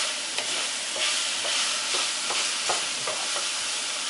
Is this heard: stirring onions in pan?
yes